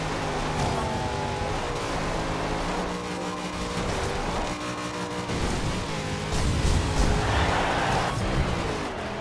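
Engine of a 1949 Mercury Coupe drifting in the racing game Forza Horizon 2, a steady loud roar with shifting revs and tire noise throughout, swelling near the end under game music.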